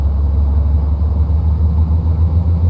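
A simulated Cessna 210N piston engine runs at takeoff throttle in a flight simulator game, a loud, steady, deep droning rumble filling the whole clip without voices.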